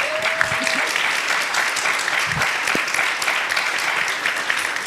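Sustained audience applause fills an evening lecture hall for a public talk, steady dense clapping throughout with a faint voice briefly audible early on.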